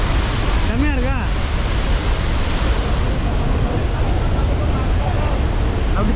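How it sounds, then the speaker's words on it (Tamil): A loud, steady roar of rushing water from Athirappilly Waterfall, dropping about 83 feet, fills everything, with a brief voice audible early on. "83 அடி ஹைட்லேருந்து தண்ணி அப்படியே ஆர்ப்பரித்து கொட்டுது."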